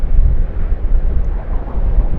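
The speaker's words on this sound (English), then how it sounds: "So the wind is actually quite strong at the moment." Strong wind roars and buffets the microphone at Sydney Airport, a loud, constant low rumble with no pauses.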